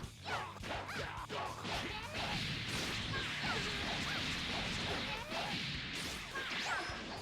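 A heavy attack string followed by a ki blast combo in the video game Dragon Ball Xenoverse 2, a rapid run of whooshes, thwacks and crashing impacts over a busy, continuous bed of effects.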